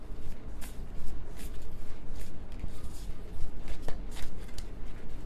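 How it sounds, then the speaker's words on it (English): Tarot cards are shuffled by hand, with repeated riffling and flicking bursts in an uneven rhythm, close and fairly loud throughout. "I'm having a hard time shuffling."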